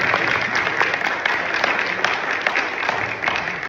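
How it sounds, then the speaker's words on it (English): A crowd at a mayoral candidates forum applauds, loud, dense clapping that continues steadily with no pauses. "Let's give them a round of applause."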